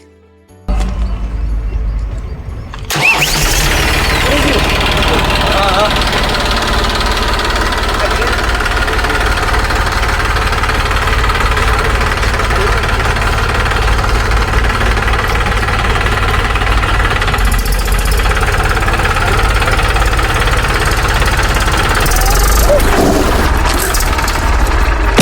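A tractor engine runs steadily and loudly for over twenty seconds after a brief start, a dense continuous rumble with knocking texture close to the listener.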